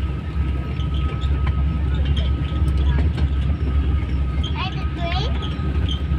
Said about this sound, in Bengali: এটা ট্রেন